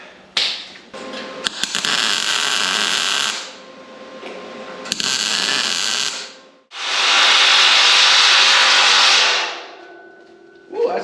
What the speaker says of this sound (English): Weld that up.